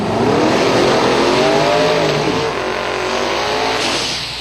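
An 2003 Ford Mustang drag car with a 632 cubic inch big block Ford and twin precision turbos roars down the strip, a loud sustained engine wail that sweeps in pitch and fades slightly toward the end.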